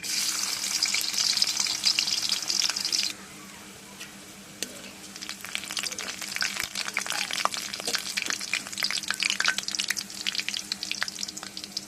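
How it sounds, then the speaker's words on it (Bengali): Crushed garlic hits hot oil in a pan for a mutton kala bhuna curry. A loud bright sizzle at first settles into a quieter frying hiss with scattered clicks of stirring. "এখন দিয়ে দেবো থেতো করা রসুন।"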